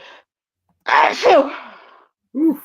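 A woman lets out one loud, close sneeze with a breathy burst and trailing exhale, preceded and followed by brief spoken words.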